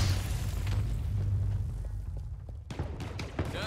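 Grenades burst in a video game firefight as several rumbling booms, moderately faint and layered, with a short quiet gap before more blasts follow.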